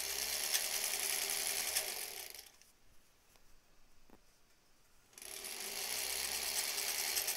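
A sewing machine stitches a final seam on a fabric face mask with fabric ties. It runs in a steady, fast whir, stops for about three quiet seconds, then resumes stitching at the same pace, close and with no voices.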